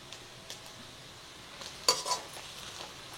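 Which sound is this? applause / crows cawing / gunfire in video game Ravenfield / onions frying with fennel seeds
onions frying with fennel seeds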